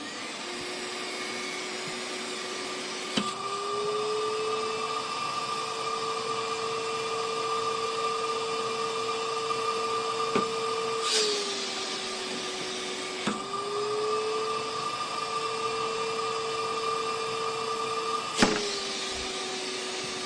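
A steel canister vacuum cleaner runs with a steady whine that dips and rises in pitch each time suction grabs and lifts a heavy food can, with a few sharp knocks as the cans hit the nozzle.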